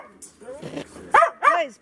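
A dog in a house barks several times in quick succession, close and clear, with a couple of sharp yips standing out among the barks.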